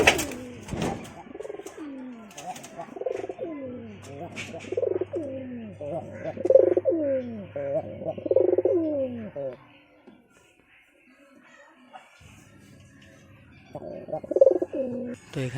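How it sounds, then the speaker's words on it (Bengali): Pigeons, a black one and a red one kept penned for pairing, coo in repeated rolling phrases nearby, a brief quiet gap midway before the cooing resumes; a person talks over much of it. "আমি একটা কালো পায়রা আর হচ্ছে লাল একটা পায়রা আমি আটকে রাখছি জোড়া দেওয়ার জন্য"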